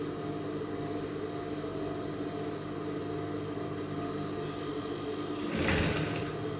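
A sewing machine runs steadily while stitching folded fabric, a continuous mechanical whir at moderate distance, with a brief louder burst of motion near the end.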